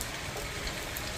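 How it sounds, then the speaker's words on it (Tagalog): Light rain falls steadily outdoors, a soft continuous patter with no clear individual drops, faint and even throughout. "Yung ulan niya ano eh, parang mahina."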